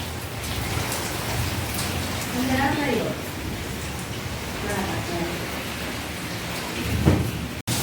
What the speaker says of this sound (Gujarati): કેવો કડાકો થયો કા